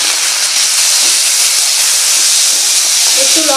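Capsicum, dried capsicum, carrot and chopped tomato fry in a pan, a steady broadband hiss and sizzle filling the scene continuously and fairly loud throughout.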